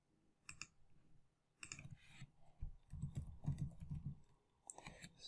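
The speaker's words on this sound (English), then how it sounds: "So I'm typing in my name," Someone types on a computer keyboard while filling in an online form, making quiet, close clicking keystrokes in short irregular bursts with small pauses between them.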